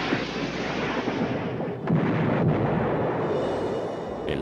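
Torpedoes fired from a German U-boat in the Second World War explode as a sustained, loud rumbling blast with heavy low roar, a sharper burst near two seconds and continued thunderous reverberation throughout.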